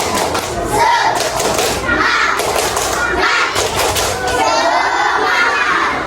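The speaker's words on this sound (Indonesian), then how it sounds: "Tepuk semangat." Third-grade schoolchildren in a primary-school classroom do a rhythmic spirit clap, loud patterned bursts of clapping with thumps and shouted chanting, repeating in quick groups close by.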